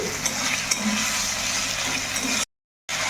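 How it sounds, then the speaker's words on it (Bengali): Two thinly sliced medium tomatoes sautéing in a pan with ginger-garlic paste give off a steady, close sizzle that cuts out abruptly for a moment, then resumes. "তো এই তো টমেটোটাও দিয়ে একটু কষিয়ে নিলাম।"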